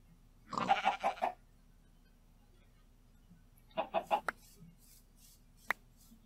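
Chickens in Minecraft Sky Factory 3 hen houses cluck in two short, rapid bursts of a few notes each, separated by quiet, with one brief sharp peep near the end.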